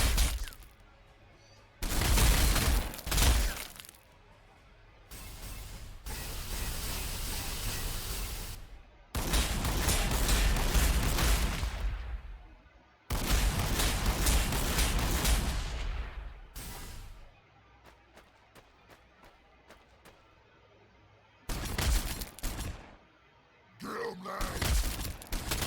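Gunfire and heavy weapon blasts in Warhammer 40,000: Sanctus Reach, loud bursts separated by quieter gaps, some sharp cracks and rumbling impacts.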